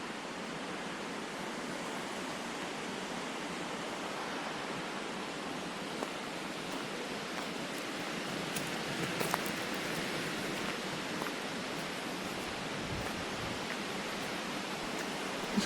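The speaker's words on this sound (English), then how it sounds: "It's not wind blowing on me so much as blowing through the trees and making a right racket" Breezy-day wind blowing through woodland trees on the Jinnie Trail makes a constant rushing hiss, swelling slightly partway through, with a few faint crackles and no talking.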